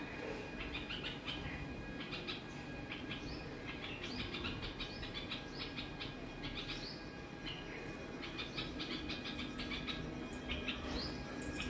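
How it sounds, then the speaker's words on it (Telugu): A small bird that comes to eat food offerings calls repeatedly, clusters of sharp chirps and tweets over a quiet household background with a faint steady hum, moderately near and fairly soft. "నైవేద్యం తినే పిట్ట వచ్చింది"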